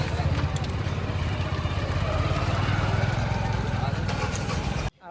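A motorcycle engine runs continuously at a steady mid-pitched drone, close and fairly loud throughout, then cuts off abruptly at the end.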